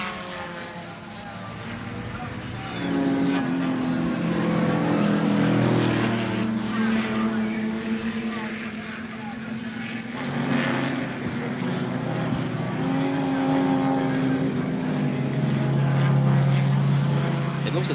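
1972 touring race cars, Ford GTHO Falcons and Chargers, roar past at Warwick Farm, engines rising and falling as they pass at a distance, under an excited commentator's voice.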